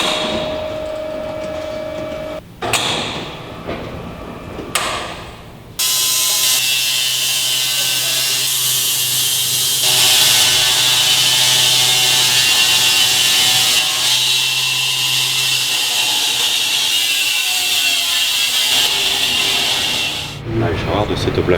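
A saw blade cuts through locally grown wood for table tops, loud and sustained with a steady high whine after a few short starts, and background voices briefly at the beginning.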